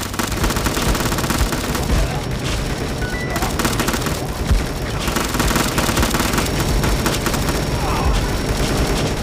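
Machine guns fire rapidly throughout a battle in the zombie game Dead Ahead Zombie Warfare, a continuous loud rattle of shots mixed with occasional booms and other game effects.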